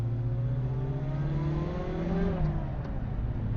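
A Volkswagen Golf 2 GTI G60 with its supercharged engine accelerating, a steady, loud rising drone with a whining pitch that climbs through the gears, heard close and alone.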